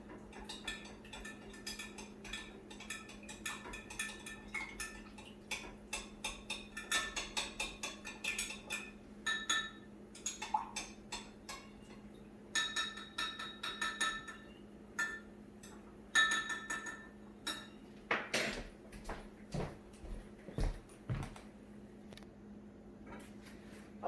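A beeswax and Roman chamomile oil mixture being stirred, heard as a long run of quiet rhythmic ticks and clinks of a utensil against a container over a steady low hum, with a few heavier knocks near the end.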